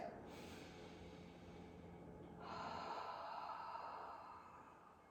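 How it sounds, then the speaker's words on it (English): A long, soft breath is pushed out through the mouth during Pilates, a steady airy exhale that swells a little louder toward the end, faint and close with no talking. "you exhale through your mouth. As if you wanted to fog a mirror with your breath."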